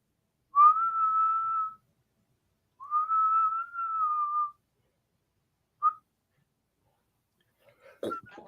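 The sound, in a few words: whistling imitation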